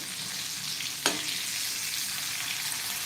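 Rava-coated bangda mackerel fries in a pan with a continuous close, loud sizzle, and one sharp scrape or tap as a piece is turned over.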